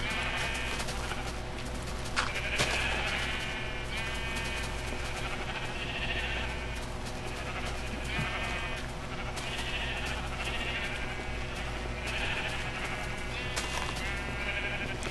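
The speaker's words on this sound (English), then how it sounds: "Come on, all you sheep, come over here." Many sheep in a video game bleat repeatedly, overlapping calls spread across a steady noisy background, none of them very loud.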